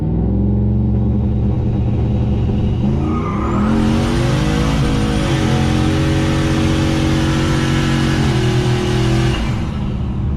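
A turbocharged GMC truck in high boost holds on the two-step, then launches with a loud, close engine roar that climbs through the revs, with turbo whoosh and rising pitch before easing off near the end.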